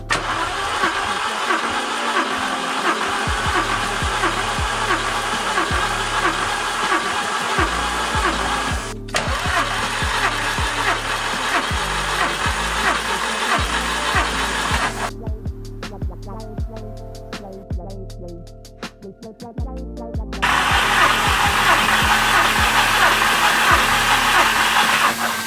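A Volkswagen Golf GTI 1.8T engine cranks in repeated bursts on the starter during a compression test, loud and near, with short pauses between runs and a brief quieter gap before cranking resumes.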